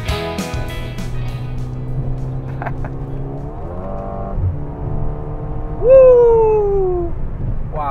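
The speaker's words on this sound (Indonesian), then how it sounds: "Ini gue lagi ngetes mobil ini di mode tergalaknya, di mode Sport Plus." Mercedes-AMG GLA 35 SUV driven hard in Sport Plus mode, its engine note rising steadily through a gear as revs climb, then a sharp loud upshift or rev flare near the end before the tone falls away, heard from inside the cabin.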